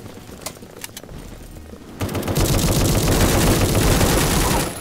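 Gunfire in the shooter game A.W.O.L: a few sharp isolated shots first, then from midway a loud, continuous barrage of rapid automatic fire that keeps going to the end.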